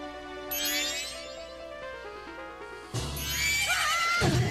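A horse in Zelda: Majora's Mask neighs twice, loud and close: a long falling whinny at first, then a second sharp, brighter whinny near the end, with brief game sound effects between.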